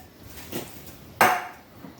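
A can of mild Rotel tomatoes, juice and all, is tipped into a pot of cheese dip, landing as a single close, wet plop with a faint metallic clank against quiet kitchen background.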